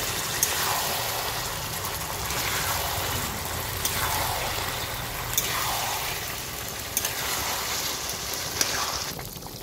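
Hot water is poured into a pot of cooking potato and pumpkin, producing a continuous close gurgling splash with faint bubbling underneath, running steadily with no talk.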